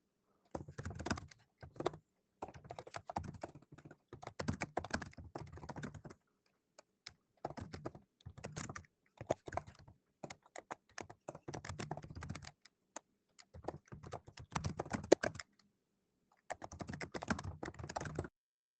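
Steady computer keyboard typing in bursts of quick keystrokes with short pauses, close and clear, no talking, during an online geometry math class.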